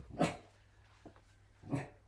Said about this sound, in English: The dog's huffing in the background.